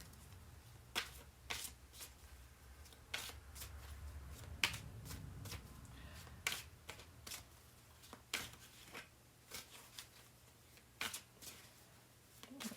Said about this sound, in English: Here we go again with the shuffling.